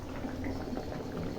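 Egg curry with drumsticks and green peas simmers in a pot, bubbling steadily close by in a short, even burst of boiling with no voices.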